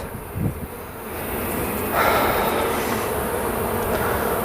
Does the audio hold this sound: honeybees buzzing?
yes